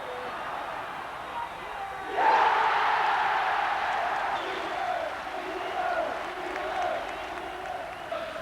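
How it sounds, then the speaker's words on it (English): A stadium crowd of nearly 40,000 at Newcastle's 1983/84 farewell testimonial for Kevin Keegan against Liverpool erupts into loud, sustained cheering and applause, a sudden roar that stays dense and broad throughout, likely with commentary underneath. "It was an emotional and noisy send-off for the former England captain."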